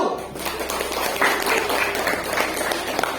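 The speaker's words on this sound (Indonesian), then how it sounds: "Tepuk tangan kelompok 1." A classroom group claps together in a burst of lively applause that continues steadily for a few seconds in a room.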